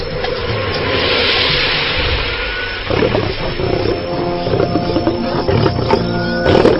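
A lion roars loudly and close in the wild, a deep sustained growl followed by rougher, broken grunting bursts over a noisy outdoor background, with no talking.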